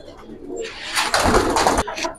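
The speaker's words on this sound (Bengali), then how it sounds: "এই খাঁচায় অনেক কবুতর আছে" Pigeons of old-breed and Giribaj stock in a cage, cooing in low rumbling bursts close by, with some rustling and a swelling burst of coos near the middle.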